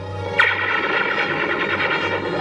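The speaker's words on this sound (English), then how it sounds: "Fire a volley through the window pane." A sharp burst of gunfire cracks out, followed by a sustained rumbling roar and rattling echo, loud and dense throughout.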